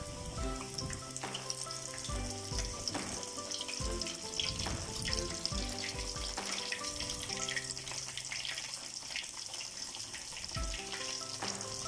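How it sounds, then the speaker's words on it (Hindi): Fish frying in hot oil in a pan, a dense, continuous crackling sizzle with bursts of popping, steady and close throughout with no voices. "अब हम इसमें फ़िश को फ्राई करेंगे।"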